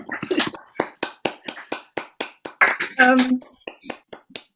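Rhythmic series of distinct single hand claps or taps, evenly spaced and close, from an online lecture audience, with a brief voice in the middle.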